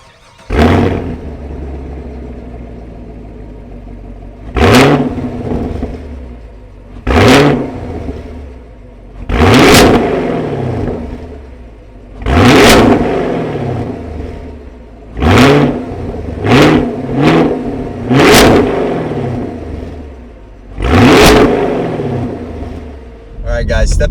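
A 2021 Chevrolet Camaro LT1 V8 revs hard in repeated sharp bursts, about nine loud blips spaced a few seconds apart, each one rising quickly and falling back to a rumbling idle, heard up close with no one talking.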